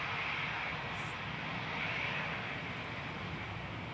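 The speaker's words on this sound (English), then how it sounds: "Just touching down from Paris Charles de Gaulle is flight 2108 for EasyJet GZWH" An EasyJet Airbus A320 touches down at Manchester Airport on arrival from Paris Charles de Gaulle, its engines a steady distant broadband roar that fills the background without clear peaks.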